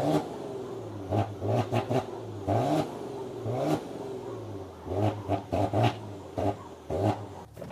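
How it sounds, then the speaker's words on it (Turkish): A Maserati Levante twin-turbo V6 petrol engine revved in repeated short, sharp bursts over a steady idle, sport exhaust valves open, the exhaust barking up and settling back down, close by with no talking. "sport aldığınızda egzoz valfleri açılıyor ve ses hemen değişiyor"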